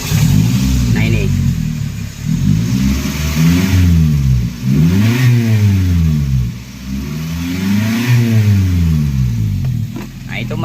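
A Daihatsu Gran Max engine revving repeatedly as the gas pedal is pressed and released, five or six rising and falling sweeps close by, with someone talking over it.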